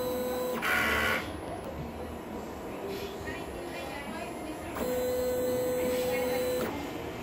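An inkjet printer runs a head cleaning cycle, giving a steady mechanical whir and hum with two louder, harsher stretches of motor and pump noise near the start and again toward the end.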